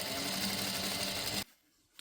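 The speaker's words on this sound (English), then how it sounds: "Now watch me do all this sewing for absolutely no reason" A sewing machine runs in a steady, loud whirring stitch while lining for a bucket hat is sewn, then stops abruptly, leaving near silence with a faint click at the end.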